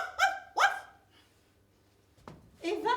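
A person imitates a small dog, giving two short yapping barks close up, then a quiet gap, a brief sharp click, and a longer whiny yelp at the end.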